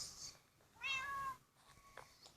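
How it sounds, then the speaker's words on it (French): A cat meows once in the Minecraft video game, a short rising-falling call, clear but fairly quiet amid faint background noise. "J'entends le bruit de mon chat."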